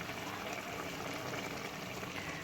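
Cooking oil goes into a pan of chicken feet curry, giving a faint, steady sizzling and bubbling hiss heard close with no talking.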